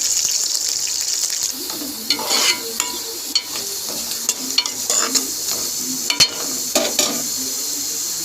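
Curry leaves sizzling in hot oil for a tempering with cumin and dried red chillies, a steady bright crackle under intermittent scraping stirs and clinks of a spoon in the pan, close and fairly loud.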